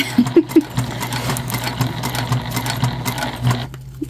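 Sewing machine topstitching a bag, a close steady mechanical whir with a rhythmic needle thump, a couple of louder knocks at the start, running alone without talk.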